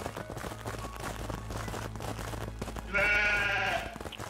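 Sheep bleating in the video game Craftopia, one clear bleat rising near the end over a steady background of game noise and faint rhythmic sounds.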